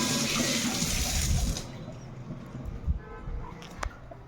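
Chopped papaya is rinsed under a running kitchen tap with a strong, close gush of water that cuts off partway through. Afterward come quieter drips and a few clinks.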